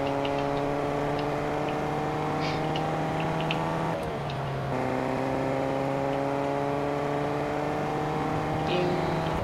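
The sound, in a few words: boat engine in video game Fortnite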